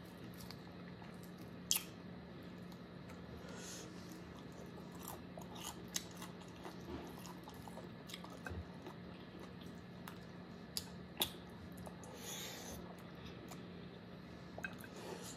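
Close, quiet chewing and biting on spicy chicken wings, with wet squishy mouth sounds and occasional sharper bites scattered through, no talking.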